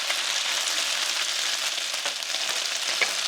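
Pasta tossed into a hot frying pan for carbonara sizzles with a steady, bright, hissing crackle, close and even throughout, with no voices over it.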